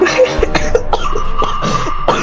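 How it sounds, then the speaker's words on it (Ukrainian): A person coughs repeatedly up close, a run of sharp, loud coughs in quick succession, with background voices or game sounds faintly underneath. "не вставляй, то що я кашлю"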